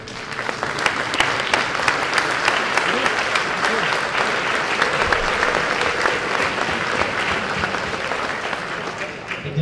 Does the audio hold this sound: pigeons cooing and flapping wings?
no